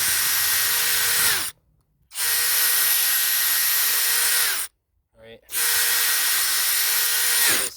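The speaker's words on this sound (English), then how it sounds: "I'm gonna drill some more holes here." A power drill bores holes into a polyurethane skateboard wheel, three loud, close whining bursts of steady motor pitch, each winding down before short silent gaps.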